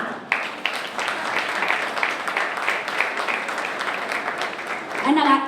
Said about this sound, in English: Big applause to him.